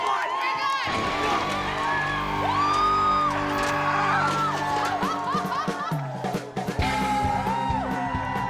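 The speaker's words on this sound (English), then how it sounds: "We need to hear a cheer for Dean right now" A large crowd cheers and yells for escape artist Dean Gunnarson during a giant beer can escape in Texas, a sustained roar of whoops and shouts with individual voices rising above it.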